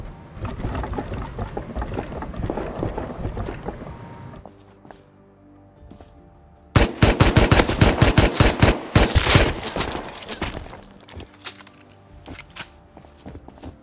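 Gunfire in the survival game Rust: a steady churn of ambient noise, then a loud burst of rapid, close shots with sharp repeated cracks, fading back toward quieter background.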